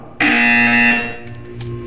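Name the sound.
buzzer in Portal 2 video game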